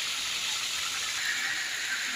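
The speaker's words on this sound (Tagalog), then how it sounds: "Prito lang po natin siya." Steady bright sizzling hiss of chicken frying in hot oil in a pan, continuous and fairly close, with no talking.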